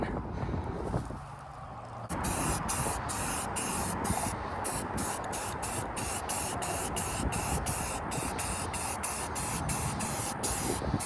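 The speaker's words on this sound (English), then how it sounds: "I'm about to spray that with some ultra matte." A spray can of ultra matte finish hisses steadily and close by onto a boat hatch, a continuous aerosol spray with brief flickering breaks, following a quieter moment.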